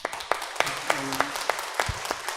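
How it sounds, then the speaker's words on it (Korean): Church congregation at a Sunday service claps in a slow, regular rhythm, sharp evenly spaced claps at moderate distance, with a faint voice murmuring underneath. "우리 권사님을 위해서 또 같이 하나님께 영광의 박수 올려드리겠습니다"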